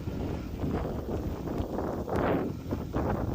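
Gusty wind buffets the microphone on an open nine-hole golf course, a steady broadband roar that swells and eases with a few stronger gusts, with no voices.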